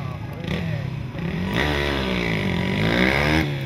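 A Yamaha WR250X motorcycle at the start of a Dunlop Ehime moto gymkhana heat, its engine loud and close, rising and falling in pitch as it revs and pulls away, with talk faintly under the engine.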